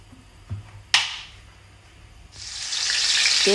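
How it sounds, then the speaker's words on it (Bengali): Branzino fish lowered into hot oil in a pan, a sharp splash followed by a rising, steady sizzle that grows louder and fills the space near the microphone. "তেলটি গরম হয়ে আসার পর আমি মাছগুলো ভাজা শুরু করলাম।"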